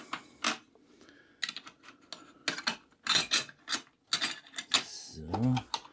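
Bolts are screwed into the rail of a bike rack in a Knaus Van TI 650 MEG rear garage, making faint, close, irregular clicks, taps and metallic scrapes with short pauses between them.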